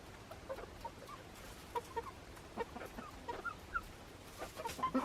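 Chickens cluck in scattered, overlapping bursts, close by, with no talking.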